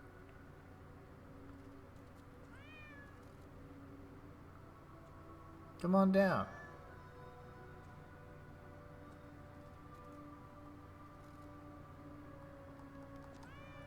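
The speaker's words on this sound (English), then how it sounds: "The little kitty cat's way up here." A cat meows in the video game Lies of P, with one loud, close yowl in the middle and a few faint distant mews around it over a quiet steady ambient drone, while a voice briefly speaks.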